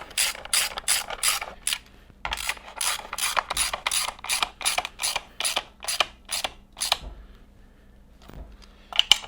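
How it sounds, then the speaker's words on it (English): A ratchet tightens the airbox on a Sportster motorcycle, its clicking coming in a rapid run of close, loud strokes, then a short pause and a final pair of strokes. "we are then able to tighten up the airbox."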